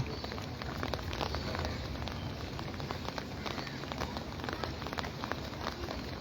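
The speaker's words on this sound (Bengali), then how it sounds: "সকালবেলা বৃষ্টি পড়ে দেখো কালকে রাতের থেকে বৃষ্টি" Steady rain falls without a break on a cloudy morning beside a river in Cumilla, a dense close hiss with scattered drop patter and no voices.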